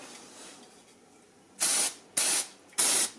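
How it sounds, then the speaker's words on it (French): Three short, loud bursts of brake cleaner spray on a Shimano BL-M4100 hydraulic bicycle brake, each about a third of a second long and evenly spaced, following a quiet stretch of faint room noise. "Donc là un petit coup de nettoyant frein."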